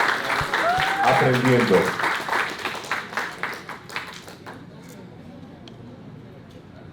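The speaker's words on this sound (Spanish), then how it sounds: "Fuerte el aplauso para Ricardo Escobar por su charla" Audience applause for a speaker at the 2019 HCN International Coaching and Mentoring Congress in Mexico, starting loud and dense, then thinning into scattered claps as a voice talks over it.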